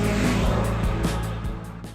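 A Mazda MX-5 NB out on a road test, its engine running as a steady, loud drone with low harmonic bands, pulsing with a few rhythmic surges as the car drives on.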